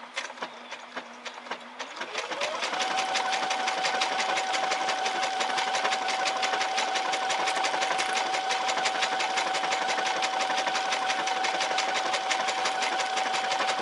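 A Brother SE630 embroidery machine starts up after a brief hum and runs a micro stippling stitch, a fast, even mechanical chatter with a steady whine that holds loud and constant, no talking.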